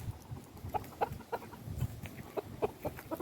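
A backyard rooster near a compost area makes soft, irregular clucks and short low calls, close by, amid faint rustling.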